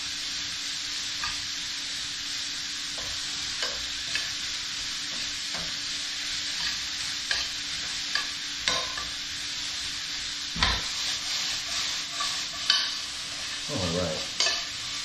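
Vegetables stir-fried in a very hot pan give off a steady, fairly quiet sizzle, with occasional clicks and scrapes of stirring and a louder clatter near the end.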